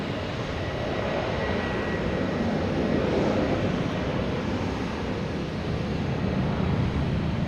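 A WestJet airliner roars steadily at Boston Logan Airport, a broad, even jet rumble that holds at a constant level throughout, fairly close and with no voices.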